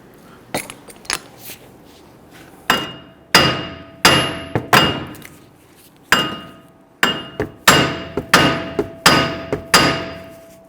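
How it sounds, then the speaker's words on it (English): A sledgehammer strikes a wheel hub to knock it loose on a 2010-2019 Ford Taurus rear brake job, about a dozen sharp metallic blows with ringing decay, irregularly spaced and coming faster later, close and loud. "I'm going to use my sledge hammer to try and knock this hub loose a little bit."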